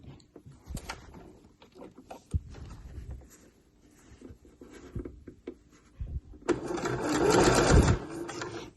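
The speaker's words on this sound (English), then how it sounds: "I'm still making sure that my raw edges are matching and that I'm sewing 1 centimetre in." A sewing machine stitches bag lining fabric with a 1 cm seam, starting with scattered light handling and short taps, then a louder, steady run of fast stitching near the end, close by and without speech.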